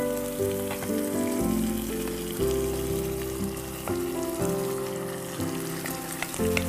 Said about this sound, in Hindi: अब हम डाल देंगे इसके अंदर गोश्त जो हमने मैरिनेट किया हुआ है।